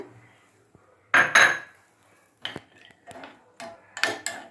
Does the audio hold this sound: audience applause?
no